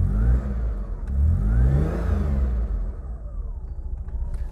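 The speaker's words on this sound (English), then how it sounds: "But if we fire up the E6 engine," A six-cylinder E6 engine in an Austin Ambassador or Princess wedge saloon fires up and revs, a loud, close mid-range rumble that swells and falls in pitch before easing toward a steady idle.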